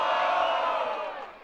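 Spectators at the Batalha da Aldeia rap battle shout and cheer in a loud burst of crowd noise that trails off within a second and a half.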